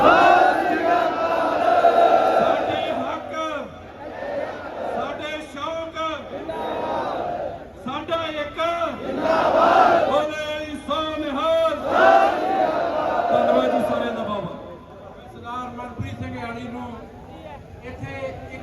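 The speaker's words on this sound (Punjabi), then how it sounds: "ਦੋਨੋਂ ਹੱਥ ਖੜੇ ਕਰਕੇ ਆਪਾਂ ਜਕਾਰਾ ਬਣਾ ਕੇ" A large crowd at a Punjabi pigeon-flying gathering roars a Sikh jaikara war cry in repeated swelling waves of shouting, loud and close, with a voice leading over the mass of voices.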